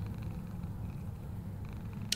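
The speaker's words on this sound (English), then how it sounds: "The cats, they're purring, you know? I can hear that." Cats purring in the horror video game Summer of '58, a soft steady low rumble that runs continuously and close, with a faint click at the very end and no voices.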